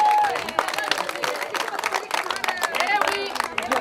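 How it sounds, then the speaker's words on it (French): Audience applause at a public meeting about neighbourhood roadworks: scattered hand claps and crowd murmur, with people talking over the clapping throughout. "J'aimerais qu'on les applaudisse parce que c'était un acte de courage."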